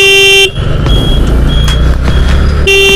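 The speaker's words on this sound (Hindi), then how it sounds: "यहाँ पे लग गया या लगने वाला है ट्रैफिक जाम," Horns honk in a daily traffic jam on a street in Ramban, with a sustained car horn blast at the start and end over a dense rumble of idling engines and scattered shorter beeps.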